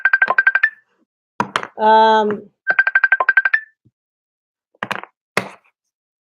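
A phone ringtone for an incoming call, two bursts of rapid trilling electronic chirps separated by a short tonal buzz, loud and close, followed by a couple of brief knocks and a short spoken utterance.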